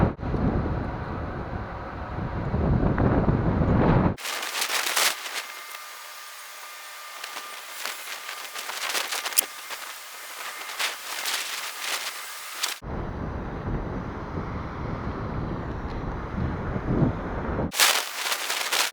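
Gusty wind buffets the microphone in heavy rumbling bursts beside the Lachine Canal in Montreal, alternating with stretches of quieter, hissing outdoor ambience.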